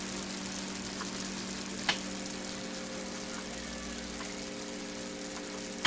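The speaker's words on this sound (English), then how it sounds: "while that is bubbling and doing its thing, I'm going to let it continue saute down some more" Curry chicken sautés in a pot with a steady close sizzle and soft bubbling, a constant frying hiss marked by a couple of faint clicks.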